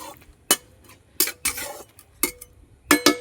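A utensil stirs food in a cooking pot in a home kitchen, a few separate scraping and clinking strokes against the pot with short quiet gaps between them, no talking.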